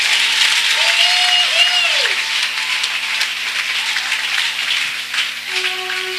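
A church congregation applauds God, giving steady, dense, loud applause that fills the room throughout, with faint sustained musical tones beneath it.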